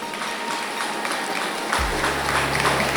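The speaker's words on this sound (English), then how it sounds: "Give them a big round of applause for your parents." A dense, steady wash of crowd applause fills a school graduation event, with a low hum entering partway through, loud and continuous and without distinct individual claps.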